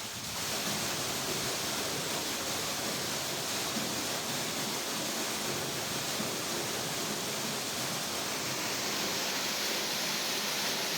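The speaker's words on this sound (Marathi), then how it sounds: "आता चालू केलेला आहे पंप आणि आपण त्याची क्वालिटी बघू शकता की पाण्याचा फोर्स किती आहे" Water gushes steadily and forcefully from a DC solar pump drawing from a 50-foot-deep well, a loud continuous rush of flow that doesn't let up.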